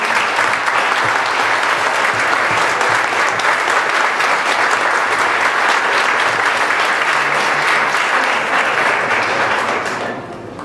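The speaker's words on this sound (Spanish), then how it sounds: "pido un fuerte aplauso para todo el MIF" A crowd applauds loudly at a political speech by a PCR party secretary, dense sustained clapping from many people that holds steady for about ten seconds before tapering off at the end.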